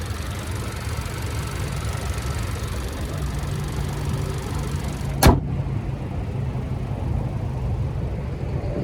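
A 2024 Hyundai Kona Limited AWD with a 1.6-liter turbocharged four-cylinder idles steadily nearby, a low, even hum. A sharp thud partway through, likely a door shutting, muffles the outside noise.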